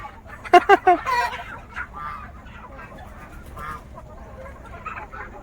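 At dusk, chickens enter a shed with a few sharp, close clucks and squawks near the start, then quieter scattered murmuring and faint background bird sounds.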